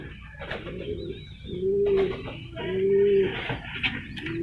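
Racing pigeons coo in their loft, with two clear low rolling coos close by, soft rustling and faint background chatter around them.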